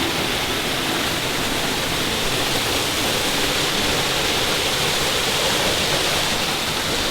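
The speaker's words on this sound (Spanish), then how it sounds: "Un salto hermoso" A waterfall at a natural spring called Ykuá Karumbé in Tobatí, Paraguay, pours in a steady, loud, broadband roar that never changes, close by, with no voices.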